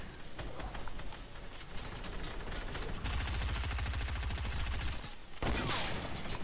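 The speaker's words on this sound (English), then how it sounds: "Because our whole team is shooting at them." Rapid gunfire from a whole team shooting at once in Fortnite: Battle Royale, with dense overlapping bursts that swell into a heavy sustained volley, heard without talk.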